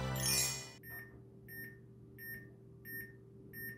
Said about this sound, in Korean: 알람이 울리는 걸 볼 수 있습니다